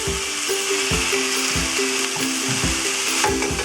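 Steaks sizzle on an oiled griddle over a stove burner with a steady broad hiss, while faint rhythmic scraping and tapping, like a utensil working the meat, repeats roughly every half second.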